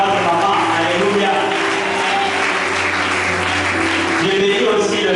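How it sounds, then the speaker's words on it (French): Church congregation breaking into sustained applause and cheers for the pastor's wife, a dense, loud clapping crowd that continues throughout, with a voice speaking over it. "Tu vas acclamer pour notre maman"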